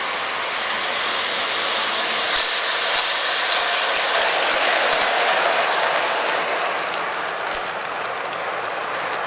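Toy train set locomotive running around its track, giving a steady, bright mechanical whirring and clicking rattle at close range with occasional sharper ticks and no talk.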